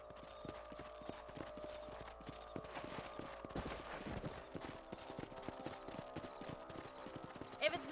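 Horse hooves clip-clop in the Western video game Red Dead Redemption, a steady rhythmic trot of repeated hoof strikes on dirt, heard close with a voice talking over them.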